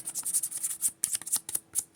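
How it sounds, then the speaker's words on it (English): Rapid riffle of sleeved playing cards being shuffled, a crisp ripping flutter in several quick bursts, close up. "these sleeves shuffle so much better than those other ones"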